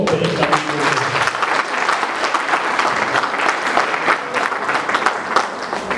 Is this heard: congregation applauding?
yes